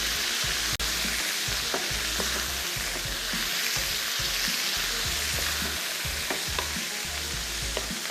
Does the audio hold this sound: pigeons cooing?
no